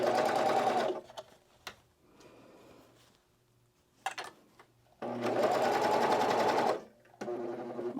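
A serger runs along the side seam of a T-shirt in two loud, steady bursts of stitching, broken by a quieter pause with faint handling of the fabric.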